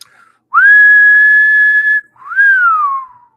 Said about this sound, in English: give me a whistle.